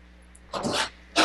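A single person sneezes during an indoor interview, a loud close burst with a short intake before it and a second sharp burst at the end.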